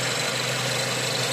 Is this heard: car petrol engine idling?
yes